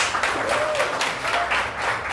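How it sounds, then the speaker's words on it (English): An audience at a panel event on digital marketing claps in steady applause, a diffuse wash of hand claps that holds at moderate loudness throughout. "Round of applause, please."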